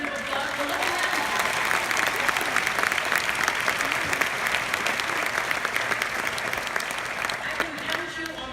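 Sustained applause from a large conference crowd at a Netroots gathering, loud and dense throughout with cheering voices mixed in.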